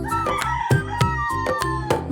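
A rooster-like crowing call, stylized and musical, repeated over a steady instrumental backing with rhythmic accents in a children's rhyme song.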